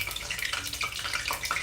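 A few drops of water flicked into hot cooking oil in a kadhai to test its heat, giving short, bright crackling spits and splutters that pop irregularly over about two seconds, close by.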